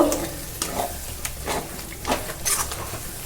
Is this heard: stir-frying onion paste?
yes